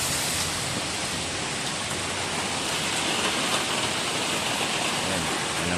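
Steady, dense rain falling in Baguio City, Philippines, a continuous close hiss of drops on surfaces with no pauses, loud and even throughout.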